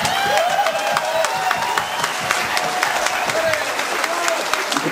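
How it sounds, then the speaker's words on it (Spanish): Strong audience applause rings out for the first-place duo from Ixtlantepec at a violin contest prize announcement, a dense, steady wash of many hands clapping for several seconds, with voices mixed in. "le den un fuerte aplauso al primer lugar"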